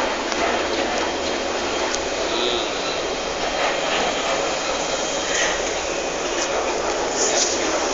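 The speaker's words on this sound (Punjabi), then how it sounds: "ਹੁਣ ਬਹਿ ਗਏ ਮੈਟਰੋ 'ਚ ਆ ਤੁਰੀ ਜਾਂਦੀ" A Singapore MRT metro train runs along, giving a steady, loud, continuous rumble and rushing noise that stays even throughout, heard from inside the carriage.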